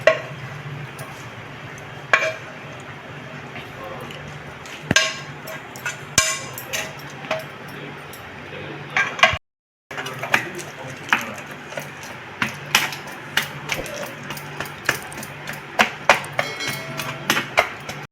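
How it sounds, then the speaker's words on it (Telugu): Chicken pieces minced finely for shawarma with a knife on a wooden board, giving repeated close sharp chops at an uneven pace, with a brief silent gap partway and a voice talking throughout. "ఈ ముక్కలంతా ఈ విధంగా సన్నగా కొట్టేసుకుందాము"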